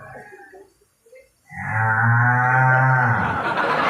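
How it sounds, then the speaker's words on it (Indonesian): A cow lets out one long, loud, close moo after a few faint background sounds. "itu suara lembu ya"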